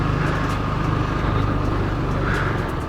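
Steady engine and road noise from a 2005 Yamaha Maxam 250 scooter on the move, a continuous drone with wind rush that stays even throughout.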